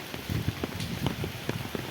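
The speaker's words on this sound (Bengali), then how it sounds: "তো দেখছেন সকাল থেকে কি ঝিরিঝিরি বৃষ্টি হচ্ছে" Light drizzling rain on a rainy village day in Bangladesh, a quiet patter of scattered drops tapping on a nearby surface in an irregular rhythm, with no talking.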